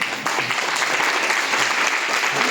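Dense audience applause at a direct-selling business gathering, steady and loud throughout, with faint voices mixed underneath.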